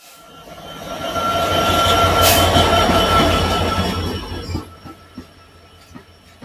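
A train on the Chilahati rail line near the India–Bangladesh border rumbles loudly past, wheels screeching and squealing on the rails, then fades to scattered clicks and clanks as it moves away, with no talk.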